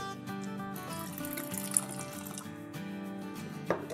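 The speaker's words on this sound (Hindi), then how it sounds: "और अब इसमें डालेंगे 4 टेबलस्पून गरम गरम पानी" Hot water is poured over sugar in a small bowl for instant coffee, a light continuous trickle under steady background music, with no voices.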